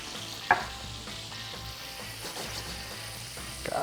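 Chopped onion sizzles and crackles in hot olive oil in a pan, a steady broadband frying hiss with a single sharp clatter near the start as it drops in and light stirring scrapes throughout.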